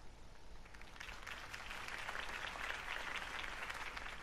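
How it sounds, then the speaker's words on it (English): A crowd in the Batman: The Telltale Series video game applauds after a campaign speech. The clapping is a broad, steady wash that slowly swells, moderately distant, with no one speaking. "could have heard that applause"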